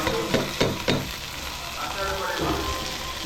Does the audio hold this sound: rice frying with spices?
yes